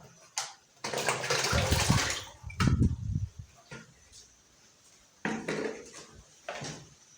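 Banana diluted in water being poured into a liquid biofertilizer mix for maize, heard as splashy watery pours and clattering container knocks in a few separate bursts with quiet gaps between.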